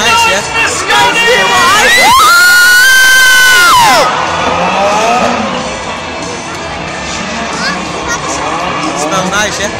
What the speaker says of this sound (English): Everybody make some noise for Scotty!